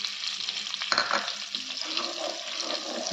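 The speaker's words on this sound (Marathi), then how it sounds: "आता हे बटर मेल्ट झालं आहे. आता लसूण बरीचशी घालायची." Chopped garlic dropped into melted butter in a hot pan, a close steady sizzle with a sharp burst as it goes in, then continuous frying crackle.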